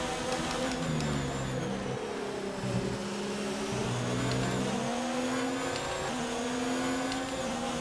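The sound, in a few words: Formula 1 car engine accelerating in F1 2019 video game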